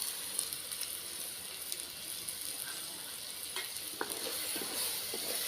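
Tomato paste stirred into ginger and garlic frying in a pan for a cauliflower gravy, giving a faint, steady sizzle with occasional soft scrapes and clicks of stirring.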